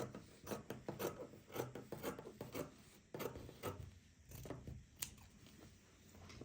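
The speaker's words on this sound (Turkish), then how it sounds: "Birinci yan parçam ikinci yan parçamı da kesiyorum." Scissors snip through pieces of yellow BİM fabric bag material in a quick series of close, crisp rasping cuts, about a dozen strokes in uneven rhythm, heard alone without talking.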